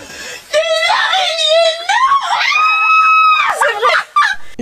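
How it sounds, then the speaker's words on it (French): A person screams in fright at a big spider, letting out loud, close, high-pitched shrieks and wails that rise and fall across several seconds. "Attention, je vais crier."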